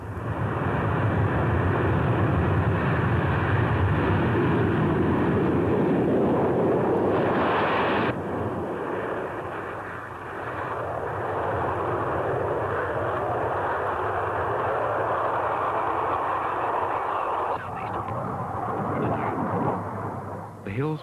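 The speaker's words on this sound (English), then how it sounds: "Opening the throttle on the runway and rolling down the runway at speed" An RAF Jaguar jet from the 1970s opens its throttle and rolls down the runway at speed, a loud, continuous engine roar that swells and shifts in tone over about twenty seconds without a pause.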